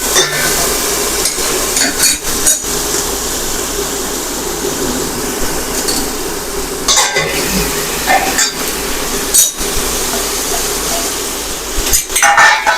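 A lid clatters onto a pan of cabbage frying with mustard seeds, cumin, asafoetida and curry leaves, bringing metallic clinks and knocks over a steady sizzling hiss.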